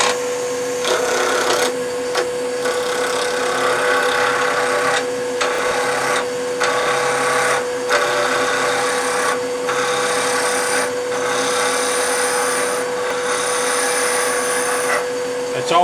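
Wood lathe spinning near 2,000 RPM as a gouge roughs out a pen blank: a steady, loud broadband scraping rasp over constant machine hum, broken by short gaps as the tool lifts and re-engages.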